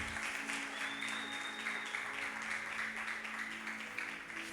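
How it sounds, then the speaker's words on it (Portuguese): Applause from a congregation during a church service in Fernandópolis, a sustained, even burst of many hands clapping that carries on throughout. "Dá um aplauso para eles"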